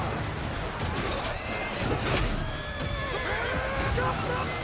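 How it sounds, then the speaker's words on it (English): Horses neigh and whinny across a chaotic cavalry battle in Mount & Blade II: Bannerlord, several overlapping cries rising over a loud, dense wash of clattering hooves and crashing combat. "horses are fucking dying everywhere"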